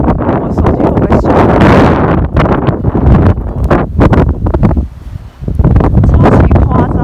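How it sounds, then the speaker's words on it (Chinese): Strong gusts of wind in Arctic Sweden around Abisko and Kiruna buffet the microphone, giving a loud rumbling roar that rises and falls and dips briefly before surging again. "风超级爆炸大"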